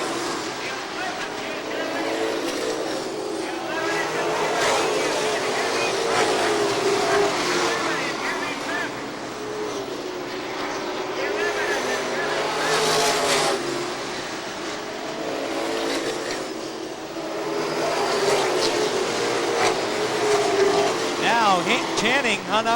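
Race cars roar around Seekonk Speedway in 1990, engine notes rising and falling as the pack circles, continuous and fairly loud beneath a commentator calling the race.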